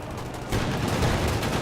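Squad machine guns fire in the strategy video game Company of Heroes 2, a dense, continuous rattle of gunfire that kicks in sharply after a quieter start and keeps going.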